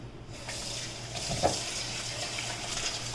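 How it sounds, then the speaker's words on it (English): Water runs steadily from a tap into a sink, a soft continuous splashing hiss with a brief clunk partway through. "use the warm water to wash this off because there was butter in it"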